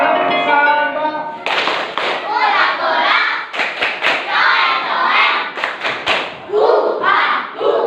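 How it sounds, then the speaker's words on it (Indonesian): A classroom of students performs a rhythmic clapping chant, with patterned hand claps and thumps mixed with children's chanting voices, close and lively throughout. "Lanjut, tepuk sambal. Ulangannya 3 kali."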